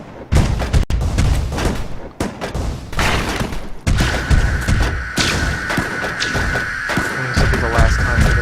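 Every weapon fires at once in the Rigonauts video game, producing a dense string of heavy thumps and booming volleys. A sustained mechanical hum runs under the later shots, and the sound stays loud throughout.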